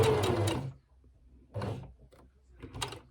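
A home sewing machine runs a seam on a polka dot dress pocket, with a sustained mechanical whirr that stops, then two shorter bursts as the needle is stopped at the corner and stitching resumes.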